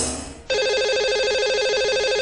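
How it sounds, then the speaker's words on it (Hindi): Telephone ringback tone heard while a call is placed to a radio show caller, a steady repeating electronic ring that starts abruptly after a brief burst of noise and continues alone, loud and close. "तो लगाते हैं इन्हें अब कॉल और करते हैं इनसे बात।"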